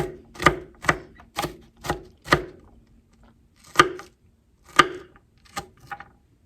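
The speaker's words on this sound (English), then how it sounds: "make sure we have all of it good and chopped well" Knife chopping vegetables for guacamole on a cutting board, about ten sharp close thuds, evenly spaced at first, then slower and more irregular, with no talking.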